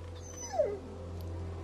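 A dog in The Walking Dead Season 2 video game gives one short, rising whimper over a steady low hum, loud and close, then quiet.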